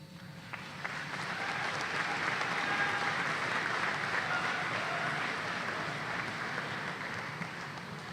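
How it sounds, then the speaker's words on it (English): An audience at a spring technical college commencement ceremony breaks into sustained applause, the clapping swelling after a second and holding steady and full for several seconds. "I think you ought to turn around and thank them right now with a little applause."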